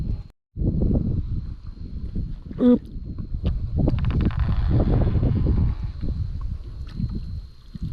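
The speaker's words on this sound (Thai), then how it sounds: "ลม ลมขนาดเลย เอ้า ลมแห้ง ลมมันดันกระดุง" Strong, dry wind roars steadily against the microphone on the Songkhram River, buffeting and gusting with a constant low rumble, briefly cutting out near the start.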